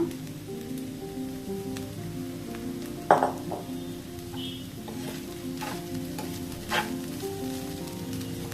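Poha with boiled potatoes fries in a pan for an aloo poha breakfast, giving a steady soft sizzle with occasional stirring scrapes and light clinks, close and continuous with no talk.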